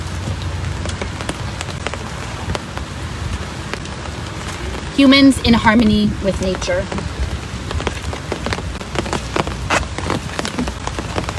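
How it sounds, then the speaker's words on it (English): Rain falls outdoors beside Onondaga Lake at Willow Bay Park, New York, a steady close patter with scattered drops, while someone speaks over it in the middle. "It's starting to rain, so the rain will help the plants"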